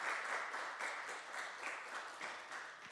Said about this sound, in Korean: 우리 격려의 박수 한번 보내주시기 바랍니다